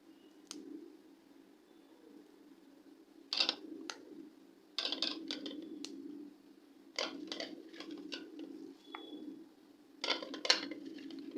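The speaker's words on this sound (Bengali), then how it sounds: "লঙ্কাগুলোকে 2টো করে খণ্ড করে দিচ্ছি।" A knife halves green chillies on a cutting board, giving sparse, sharp clicks and taps in short clusters separated by quiet pauses, close and fairly faint.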